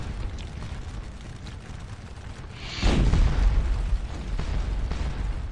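A cannon fires canister shot in the Napoleonic battle game Scourge of War: Waterloo, near the Prussian side at Wavre: one loud, close boom that rolls into a sustained low rumble over faint background battle noise.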